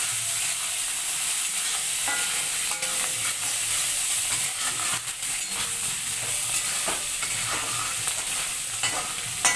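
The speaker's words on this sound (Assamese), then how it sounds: "শুকান মাছখিনি ভাজি আছোঁ।" Dried fish frying in hot salted oil, a steady dense sizzle close up with occasional stirring scrapes, continuous throughout and without voices.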